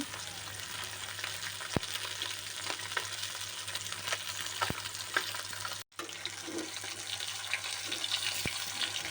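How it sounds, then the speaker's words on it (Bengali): Sarpunti fish fry in hot oil with a continuous crackling sizzle, moderately loud and close, broken by occasional sharp pops and one brief dropout, with no talking. "মাছটাকে গরম তেলে ছেড়ে এখন আমি ওয়েট করব ভালো করে এক পাশ ভাজা হওয়ার জন্য"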